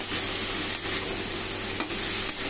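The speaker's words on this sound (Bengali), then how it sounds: "এবার নাড়তে থাকবো। একটু ভাজা ভাজা করবো, একটু বেশি নয়" Vegetables being stirred in a frying pan with whole cumin tempering for a prawn curry, a steady soft sizzle with a few brief scraping strokes of the spatula, close and alone.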